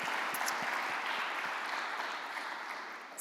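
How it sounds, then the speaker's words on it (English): An audience at an international commodity summit on agriculture and finance claps steadily for a panelist, a dense wash of applause from a sizeable crowd that fades slightly toward the end. "Please give him a round of applause."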